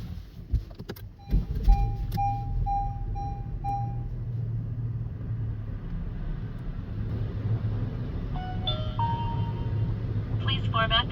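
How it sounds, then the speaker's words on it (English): A car is switched on with a run of electronic chime beeps and a starting thump, then a low, steady engine hum settles in, quiet and continuous, with a few more beeps near the end. "Now we go ahead and turn on the vehicle."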